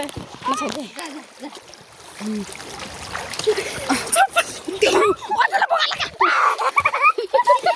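Water splashes and sloshes irregularly underfoot as someone wades through a stream, close and uneven, with voices talking over it.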